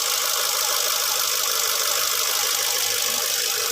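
An overhauled Ford Fiesta engine idling smoothly and quietly after repair work near the water pump, a steady even hum heard close up with no talking.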